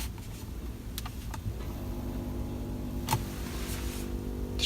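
A seat massager runs inside the cab of a 2019 Ford F-250 Platinum Power Stroke diesel pickup, giving a faint, steady low motor hum with a few soft clicks, and no voices.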